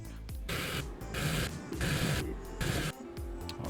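A 3D printer prints landing gear for a Pavo20 Pro drone, its stepper motors whirring and buzzing in repeating bursts with short pauses, a steady close mechanical hum with no talking.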